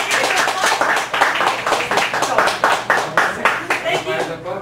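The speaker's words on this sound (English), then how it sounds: "Give this man a huge round of applause." Audience applause at a poetry open mic in a cafe gallery, energetic clapping from a small crowd, loud and close and lasting throughout.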